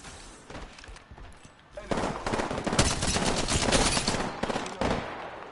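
Gunfire in the battle royale shooter Apex Legends: quiet at first, then a sustained stretch of rapid automatic fire and overlapping shots from several weapons, loud and close, rattling on for several seconds.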